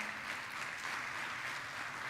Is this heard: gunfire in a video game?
no